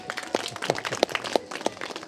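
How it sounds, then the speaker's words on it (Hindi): An audience clapping in rhythm, a short run of close, evenly spaced claps with softer scattered hand claps between them. "ताली बजा दीजिए इनके लिए एक बार"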